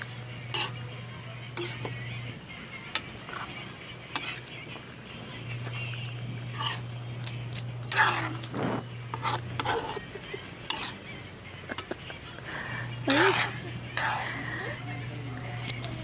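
A utensil stirs and clinks against a bowl while mixing for Kapampangan sipo egg, with repeated scrapes and taps under a steady hum, and a person speaks quietly in between.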